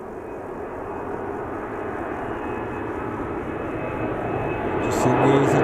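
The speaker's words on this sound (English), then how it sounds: "Just make out the EasyJet in the distance." An EasyJet airliner at Birmingham Airport rumbles far off as a broad, steady engine roar that swells slightly toward the end, with faint voices in the background.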